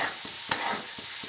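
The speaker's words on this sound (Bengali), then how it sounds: "এখানে ভাত করলা ভেজে নিচ্ছি" Bitter gourd sizzles and fries in a pan with a soft crackle, a stirring clink and a few scraping strokes.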